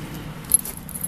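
Keys jingle briefly, a short metallic rattle standing out near the middle over a low background hum, beside a homemade remote detonator.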